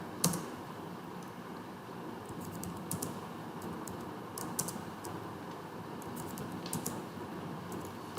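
Commands are typed on a computer keyboard in soft, irregular bursts of key clicks close to the microphone, with quiet pauses between them and no talking.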